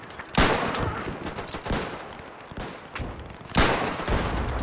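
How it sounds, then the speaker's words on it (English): Rapid gunfire from enemy soldiers in a WW1 trench battle video game: loud bursts of rifle and machine-gun shots crackle continuously, with sharp louder volleys near the start and toward the end. "It's from the flank they're shooting us."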